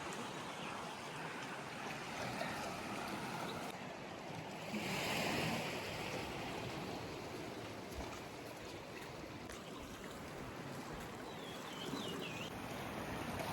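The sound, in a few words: sea waves at Arambol Beach, Goa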